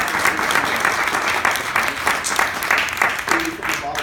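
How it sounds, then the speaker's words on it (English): Applause fills a luncheon room after a speech, a dense steady clapping from a sizable audience at close range with voices mixing in underneath, lasting several seconds. "give you a round of applause"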